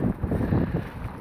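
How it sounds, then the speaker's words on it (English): Gusty outdoor wind buffets the microphone in a low, rumbling flutter for a brief moment, with no voices. "Wow, it's windier than I thought."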